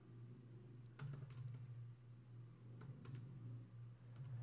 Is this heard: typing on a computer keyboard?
yes